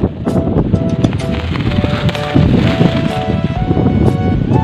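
Strong wind buffets the microphone outdoors where a kite is being flown, a loud, rough, gusting rumble with rustling and rattling throughout, steady and close.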